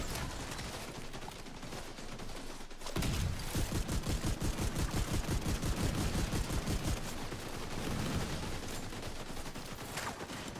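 Rapid bursts of gunfire in The Division 2, an Omega-style shotgun loadout, firing in a fast repeating rhythm for several seconds over a constant background, loud and close with no talking.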